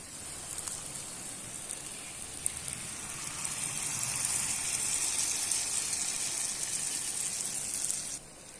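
Jilebi frying in hot oil, a steady bubbling hiss that swells slightly and runs unbroken, close and fairly loud, before cutting off near the end.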